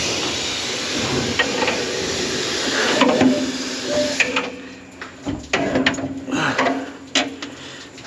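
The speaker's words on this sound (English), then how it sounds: "now the flat iron is up at the very top of the rotor hitting" A loose piece of flat iron knocks against the top of a combine rotor during corn harvest, clattering and rattling mechanically over a running machine hum. Sharp irregular impacts grow more distinct in the second half as the machinery winds down.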